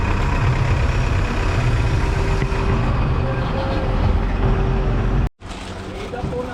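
Heavy highway traffic rumbles with idling trucks and passing engines, a loud steady low drone that drops out briefly near the end before resuming.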